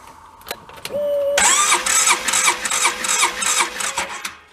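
A Polaris Ranger 800XP engine cranks during a compression test, with a rapid rhythmic starter chug under a whine that stays loud and close for several seconds after a couple of clicks.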